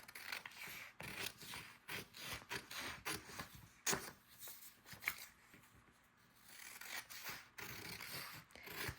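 Scissors snip through a strip of wallpaper for a floating envelope pocket in a journal, a run of close, crisp cutting and rasping strokes with brief pauses, no talk.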